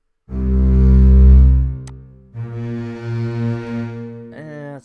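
A loud, sustained piano note, a high-octave C, droning with a buzzy tone, followed after a short break by another held note and a brief higher note at the end.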